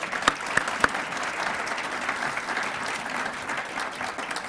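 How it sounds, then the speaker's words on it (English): An audience at a lecture gives a round of applause, steady even clapping from a seated crowd with a few sharp nearby claps at the start. "So I'm going to ask you to give all of them a round of applause again."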